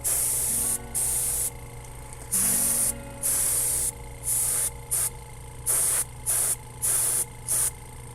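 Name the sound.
spraying clear coat lacquer on a Nerf blaster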